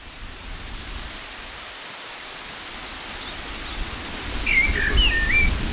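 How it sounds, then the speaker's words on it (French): Wind rushes steadily across an outdoor walking trail on the Chemin de Compostelle GR65 near Miradoux, with faint birds chirping in the distance and gusts growing louder toward the end. "Et les oiseaux. Il y a le vent là surtout."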